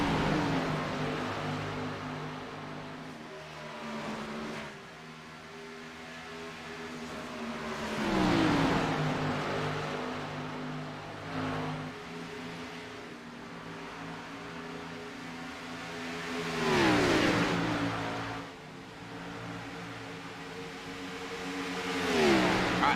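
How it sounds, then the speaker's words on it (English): Race cars from a Rick Motec Cup Series event circle a track, engines swelling and fading as they pass, revving and accelerating in repeated waves from mid-distance with no talk over them. "Right now, just kind of listening to the sounds of the cars."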